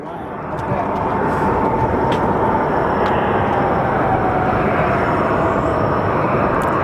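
An Air Canada airliner flies near Phoenix Sky Harbor Airport, and its engines give a loud, steady broadband roar. The roar swells in over the first second and then holds constant.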